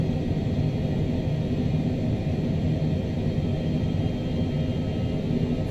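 Cessna Longitude jet flying an RNAV approach into Aspen, Colorado: a steady, loud cabin and engine drone with a broad rumble, unbroken throughout and with no voices.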